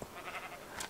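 A Minecraft sheep bleats in a short in-game sound, with a brief higher-pitched cry near the end, fairly quiet and with no voices over it.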